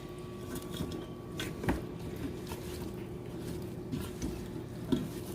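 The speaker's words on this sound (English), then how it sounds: "just kind of give it a stir to spread around that seasoning" Seasoning is stirred inside a Ninja Foodi pot, soft scraping and occasional dull knocks of a utensil against the pot at a quiet, close level, with a faint steady hum and no talking.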